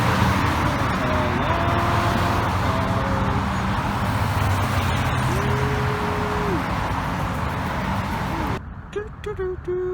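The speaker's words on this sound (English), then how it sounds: "Look at the traffic." Steady road traffic roars at a bus stop, a dense wash of passing cars and engines with faint tonal horn-like or braking whines rising over it, all cutting off abruptly near the end to a quieter stretch.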